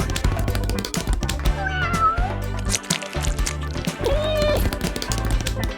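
Several cats meow in repeated, overlapping calls with short pauses, fairly loud and close, over a busy background of other sounds.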